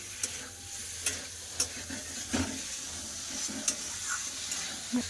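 Vegetables and chopped tomato sautéing in a pan, a close steady sizzle broken by repeated clacks and scrapes of a stirring spoon at irregular intervals, with no voices.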